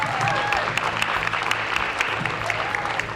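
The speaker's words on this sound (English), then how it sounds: "How about a big round of applause for everyone one more time?" Sustained audience applause at a spelling bee, a large crowd clapping steadily with a few sharper individual claps standing out, moderately loud and continuous for about three seconds.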